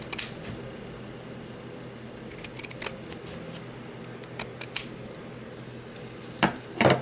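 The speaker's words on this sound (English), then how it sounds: "All you have to do is take your pinking shears like that" Pinking shears cut through stiff white felt nearby, sounding as short crisp snips in small clusters over a quiet background, with a louder rustle and handling noise at the very end.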